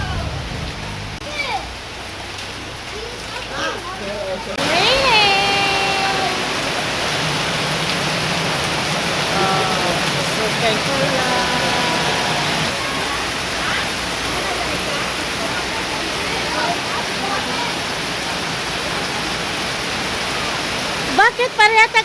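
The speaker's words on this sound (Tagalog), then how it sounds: "Malakas ang ulan sa amin dito dahil ngayon is yung bagyong uwan." Heavy typhoon rain pours steadily and loudly for most of the stretch, beginning abruptly after a quieter opening, with voices talking faintly in the background.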